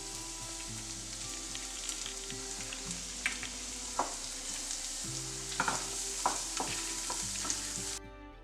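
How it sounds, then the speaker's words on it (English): Garlic sautéing in oil in a pan for a spinach beef patty, a steady close sizzle with scattered stirring clinks and scrapes throughout, ending abruptly. "first we will saute our spinach and garlic"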